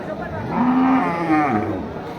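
A large cow at a crowded cattle market in Bangladesh gives a single drawn-out moo, close and fairly loud, over a low murmur of background crowd.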